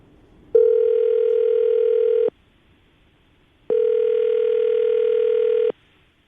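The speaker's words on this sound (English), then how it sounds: "Tim, we're going to call her right now, get her on the phone, and see if we can get your answer, okay?" Two long, steady electronic ringback tones on a phone line, separated by a pause of silence.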